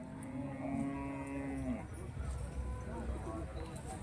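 A cow lets out a long, low moo up close at a cattle market in Neknoor, followed by background chatter and bustle of other livestock and people.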